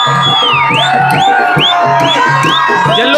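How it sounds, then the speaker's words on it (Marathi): A large crowd cheers and whoops loudly and continuously as a 200-foot-plus ceremonial god-pole for Mhasoba is raised upright at a traditional village festival in Rawe, with shouts rising over a steady roar. "जल्लोष पाहू शकता मित्रांनो."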